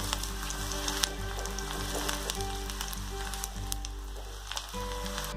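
Onions frying in hot oil for chole, a steady close sizzle with continuous crackling and occasional sharp pops over a low hum, no voices.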